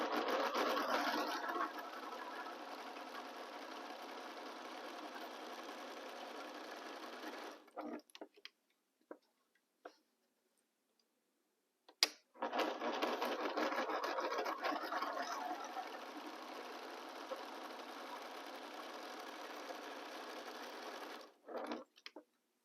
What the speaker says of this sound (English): So I align my fabrics and start sewing.